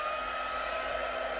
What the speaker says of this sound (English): we set it with a heat tool, which is a bit like a hairdryer